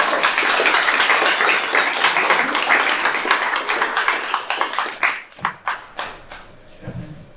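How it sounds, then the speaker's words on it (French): An audience applauds at a live event, dense clapping that stays steady for about five seconds and then thins out into scattered individual claps. "Donc des applaudissements s'il vous plaît."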